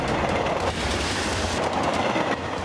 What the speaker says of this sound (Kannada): ಆ ಟ್ರೈನ್ ಬಂತು, ಬನ್ನಿ ನೋಡೋಣ.